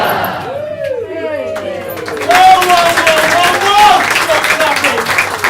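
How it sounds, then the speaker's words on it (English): Audience applause and cheering swell after a pantomime, a steady crowd roar with raised voices that grows louder partway through and carries on to the end. "Stop clapping!"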